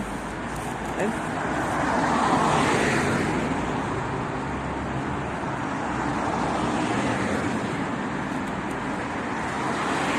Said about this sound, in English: oh, that car sounds fun